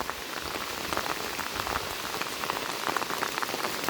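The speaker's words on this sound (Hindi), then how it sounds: "बहुत बारिश हो रही है, बहुत ज़्यादा।" Heavy rain pours down steadily near Kilbury Lake, a dense, constant hiss of drops pattering on surfaces close by, with no voices.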